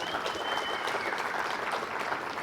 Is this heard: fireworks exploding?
no